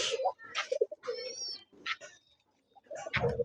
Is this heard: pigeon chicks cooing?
yes